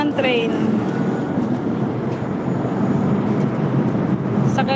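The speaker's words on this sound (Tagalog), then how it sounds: "Ayan, sakay na ako ng train" Riding aboard a train in Hong Kong, with a steady, loud rumble of the carriage that runs the whole way through, and faint voices and brief higher squeals at the start and end.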